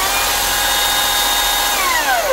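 A loud, steady battery electric chainsaw whine with a 24-inch bar, high pitch that shifts and sweeps downward near the end, like a power saw running up close.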